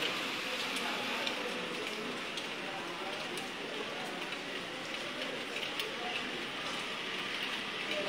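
Monsoon rain falls steadily over a rural Bengal landscape, making an even, continuous hiss with faint scattered ticks of drops and no clear speech.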